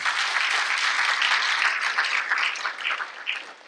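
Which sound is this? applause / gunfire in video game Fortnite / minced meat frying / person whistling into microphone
applause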